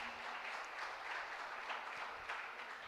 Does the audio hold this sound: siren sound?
no